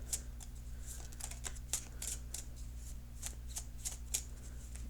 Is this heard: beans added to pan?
no